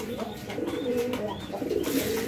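Pigeons sitting on eggs coo in low, rolling murmurs that carry on steadily and close by, with faint high chirps now and then.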